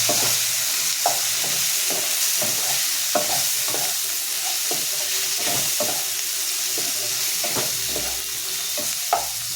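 A wet masala paste fries in a pan under a constant soft sizzle, punctuated by regular spoon scrapes and knocks roughly every second as it is stirred; no one speaks.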